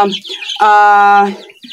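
Baby chicks being vaccinated in a brooder, heard as a loud, close, drawn-out harmonic call from one bird with softer chirps around it.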